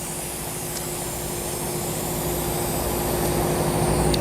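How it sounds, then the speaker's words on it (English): Air hisses steadily out of a dirt bike tire with its valve core removed: a loud, continuous, close-up rush that swells slightly toward the end, with no voices. "let all the air out"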